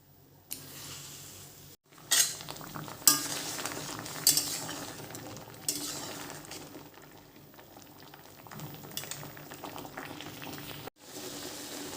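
Pieces of raw mango simmer in water in a pan on a home stove, giving a soft, continuous bubbling with occasional clinks and scrapes of a utensil against the pan, quiet and close.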